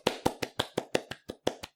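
One person claps their hands about ten times in quick, slightly uneven succession, sharp close slaps standing in for applause, with no talking.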